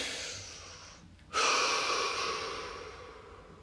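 A slow, deep breath, a long airy exhale tapering off, then a sharp inhale that swells loud and fades gradually, close to the microphone with no talk.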